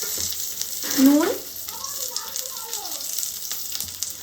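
A green chili is dropped into hot oil for tempering in a home-style Bengali fish curry with mustard and poppy seed, giving a brief loud sizzle that settles into a soft, steady frying hiss while someone speaks.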